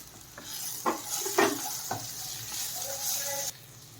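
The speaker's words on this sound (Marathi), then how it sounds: "भाज्या एकदम असे सॉफ्ट होईपर्यंत ह्याला परतून घ्यायचं आहे" Chopped vegetables are stirred and sautéed in a pan for a leftover jowar roti upma, with a steady sizzle and a few scraping stir strokes, close and fairly quiet, no talking.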